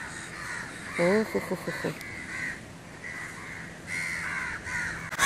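Crows perched on a palm tree on a Sri Lankan island caw repeatedly in harsh bursts, with a voice briefly chuckling over the calls.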